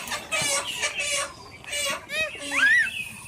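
Chickens at a poultry farm, heard up close, giving repeated clucks and sharp rising squawks in uneven bursts.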